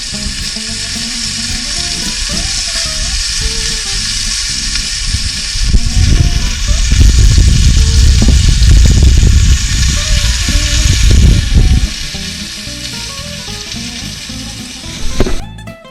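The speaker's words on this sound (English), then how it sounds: "Just wanted to see if you guys can hear that sizzle." Steady sizzling of a ribeye steak on a hot Big Green Egg grill during a reverse sear, swelling louder for a few seconds then settling, with a voice speaking faintly over it.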